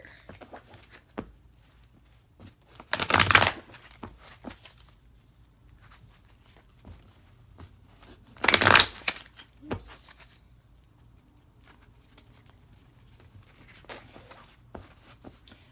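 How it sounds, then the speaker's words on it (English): Tarot cards being shuffled by hand, two distinct riffling bursts separated by quiet handling noises, close and alone with no talking. "with this set of cards that I'm shuffling, that I have in my hands now"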